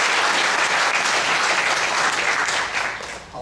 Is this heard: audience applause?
yes